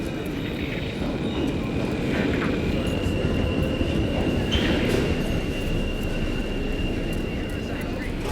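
A train arriving at a station in the video game The Outer Worlds 2: a steady, loud rumbling rail roar runs the whole time, with a faint high whine and a brief swell midway.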